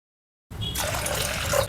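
Water pours steadily into a metal pressure cooker for over a second, a continuous splashing rush after a brief silence.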